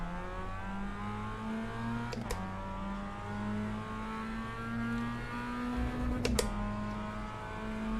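Race car engine in the iRacing sim, a steady mid-pitched drone with rising and falling harmonic tones and two brief gear-shift blips, fairly faint and alone.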